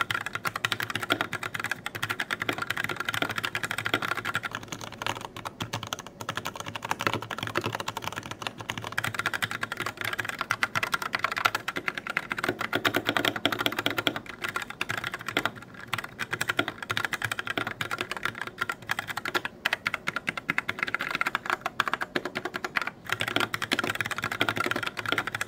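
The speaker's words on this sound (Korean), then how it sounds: "다만 오늘 소개해드리는 키보드가 갈축인데요. 적축보다는 시끄럽고 청축보다는 조용한 느낌을 떠올리시면 좋을 것 같은데" Steady, continuous typing on a Keychron K6 mechanical keyboard fitted with brown switches, a dense run of close, moderately loud key clicks and thocks with no talking.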